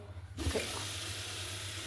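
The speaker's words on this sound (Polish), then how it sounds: "nie lej za dużo tej wody, żeby się nie rozklepało to" Water runs steadily from a kitchen tap into a sink, a continuous close hiss with a brief splash near the start, no voices.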